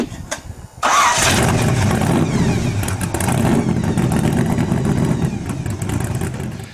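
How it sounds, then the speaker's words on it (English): A Volkswagen car fitted with a large blown V8 starts up: a brief crank, then the engine catches loudly and settles into a heavy, rumbling idle with some blips of throttle, close and dominant throughout. "This people's car is powered by a very large blown V8."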